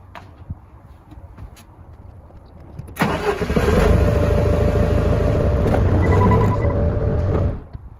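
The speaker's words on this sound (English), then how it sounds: "Get this forklift out of the way." A forklift engine turns over and starts, then runs at a loud, steady idle for several seconds before cutting out, close by and with no talking.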